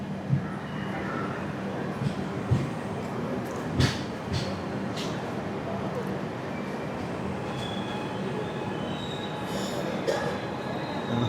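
16332 Express train pulling into Haripad station, a steady rumble of rail noise with faint clanks and brief squeals, continuous and moderately loud throughout.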